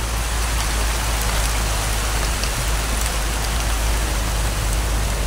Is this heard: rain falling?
yes